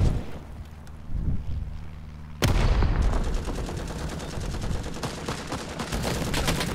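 Gunfire and a grenade blast in the Vietnam War shooter Rising Storm 2: Vietnam, quiet distant shots at first, then a sudden loud explosion followed by dense rapid firing and rumble.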